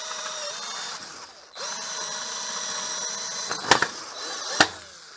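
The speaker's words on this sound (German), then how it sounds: "bohren jetzt einfach mal die Popniete wieder auf." A power drill whirs steadily at close range, briefly stops and restarts, then bores out a metal pop rivet with a couple of sharp clanking snaps near the end.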